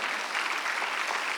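A Sunday worship congregation breaks into brisk, dense applause, many hands clapping at once in a steady, close wash of sound.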